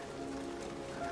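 Steady rain falls outside in a scene from the film At First Sight, a soft, even patter of drops on a surface that stays faint and constant with no voices over it.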